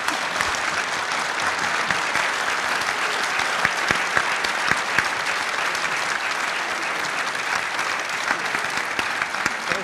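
Sustained applause from a large crowd at a congressional candidates' forum, dense and steady clapping that fills the room without pause.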